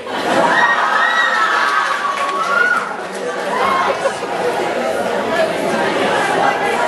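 An anime convention crowd shrieks and cheers loudly at Anime Vegas 2007, with excited high-pitched voices and chatter running nearly throughout and a small dip midway.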